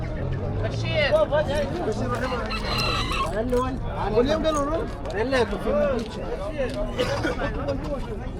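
Roosters crow repeatedly and hens cluck nearby amid a busy babble of people talking at a flea market in Şanlıurfa, Turkey, a lively, noisy outdoor gathering.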